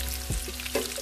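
Chicken sizzles in a pan with onion and capsicum, a soft steady frying hiss broken by a couple of brief stirring scrapes, close and alone without talk.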